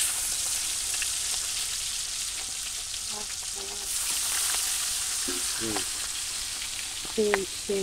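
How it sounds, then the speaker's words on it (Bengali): Katla fish pieces coated in spice powder fry in hot oil, a loud continuous sizzle and crackle with occasional scraping and clinks from the pan. "তো আমি ভাজা বসাই দিলাম মাছ।"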